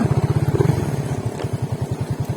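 A motorcycle rides over a rough, partly cemented road, its engine putting out a steady low pulsing throb with faint clatter over the top, loud and close, with no talking.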